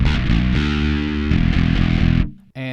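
An electric guitar chord heavily distorted by a distortion pedal rings out thick and sustained, then cuts off abruptly before a brief distorted burst returns.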